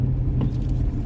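A car engine rumbles low and steady while the vehicle is parking behind a ute on a roadside with limited parking, a close, continuous drone with no speech.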